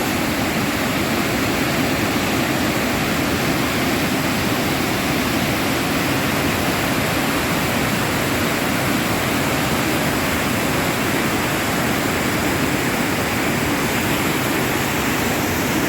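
A waterfall at Yaremche, Ukraine, roars as a constant, loud wash of rushing water, unchanging from start to finish, with no voices.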